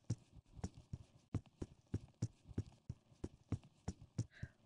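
Hooves of a pure black Friesian horse at a walk in a horse-riding video game, landing in a steady, even clip-clop rhythm, clear and close, with no talking over it.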